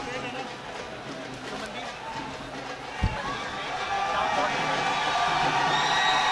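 A fight crowd at an MFN Matrix bantamweight MMA bout cheers for the fighter Mandeep, a steady roar of many voices that swells louder toward the end, with one sharp thump partway through.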